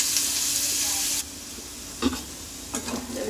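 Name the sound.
onions frying in a pan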